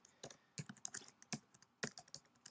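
Computer keyboard typing in a few quick bursts of close, crisp key clicks, irregular in rhythm and with short pauses between runs.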